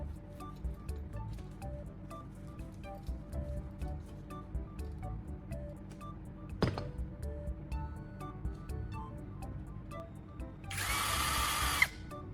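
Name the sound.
drill spinning carbon rod against sandpaper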